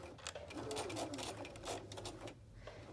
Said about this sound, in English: So I'm going to sew from the corner. You can backstitch maybe 1 or 2 stitches.